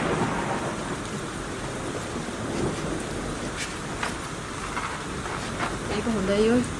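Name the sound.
rain and thunderstorm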